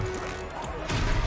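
A Confringo spell blast in a Harry Potter video game battle: a dense, roaring burst of combat noise with crashing impacts that swells louder toward the end.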